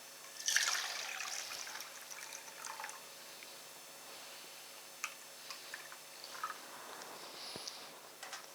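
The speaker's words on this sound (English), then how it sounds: "Going to add 300-gram ice water." Ice water trickles and splashes faintly into a sausage meat mixture for Vienna-style wieners, a soft quiet pour with light drips and no talking.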